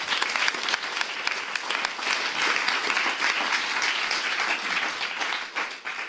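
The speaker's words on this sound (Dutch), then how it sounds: "Geef haar alvast een applaus." A debate-hall audience applauds a guest coming on stage, with dense, sustained clapping from many hands that stays loud throughout and fades slightly at the end.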